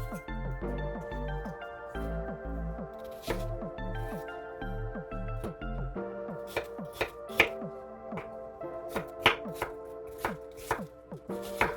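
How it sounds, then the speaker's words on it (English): An onion chopped with a knife on a cutting board for butternut squash soup, a long run of quick, regular close thuds, then sparser, crisper cuts, with a person talking over it. "now next I'm going to chop up my onion"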